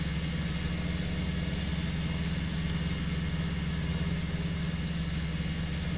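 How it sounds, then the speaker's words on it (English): Three farm tractors running together in a field in winter, heard as a steady, continuous low engine drone at moderate distance, unchanging throughout with no voices. "We've got all three tractors running in the field here"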